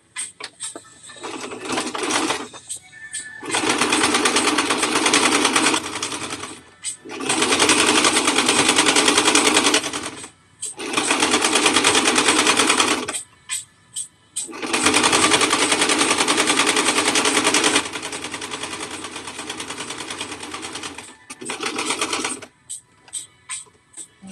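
A sewing machine stitches twill tape over the seams of a cropped cardigan in a run of fast, loud mechanical bursts of several seconds each, separated by short pauses.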